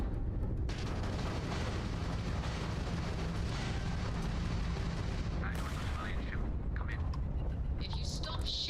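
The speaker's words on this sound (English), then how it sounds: "The ship's weapons are powering up." Spaceship weapons firing with explosions in Starfield, a dense continuous roar of gunfire and blasts filling the scene, with sharper bursts near the end and talk mixed in underneath.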